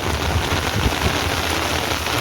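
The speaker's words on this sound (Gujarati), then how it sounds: "વરસાદ શરૂ થઈ ગયો" Dense, steady roar of heavy rain pouring down onto a garlic field nearby, unbroken for the whole stretch with no voices.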